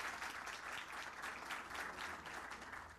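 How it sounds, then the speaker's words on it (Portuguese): An audience applauds steadily as a speaker is welcomed onto the stage at a smartphone congress, dense clapping sustained for about three seconds and moderately distant. "Então, quero convidar, com o aplauso de vocês, ao palco a Sandra Turki."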